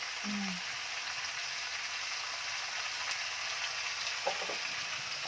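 Ginger hits the pan of a country-chicken curry with a steady, close frying sizzle, an even hiss that holds throughout with a few faint clinks near the end and no voices.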